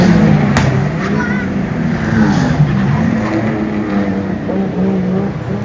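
Street race cars roar through a crowded town course at a first-ever street race in Uttaradit, Thailand, a loud, steady engine drone with a passing surge amid crowd noise and voices throughout.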